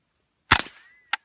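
A single sharp shot cracks out near and loud during child target practice, followed about half a second later by a short, fainter metallic report as the target is hit.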